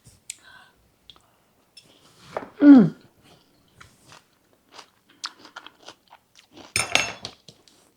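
Crunchy chewing of apple and cabbage slaw, heard up close as scattered bites and crisp crunches with quiet gaps between them, plus one louder burst partway through.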